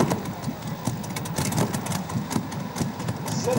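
A pulling tractor fitted with Rolls-Royce WWII bomber engines idles at a tractor pulling event, a continuous rough, throbbing engine rumble heard steadily throughout.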